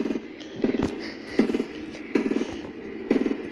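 Gunfire in Fortnite comes as short, rapid bursts of crackling shots, about four clusters in quick succession, fairly loud against a steady game background.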